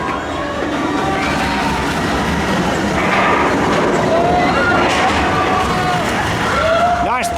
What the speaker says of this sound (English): the coaster just emerges in front of us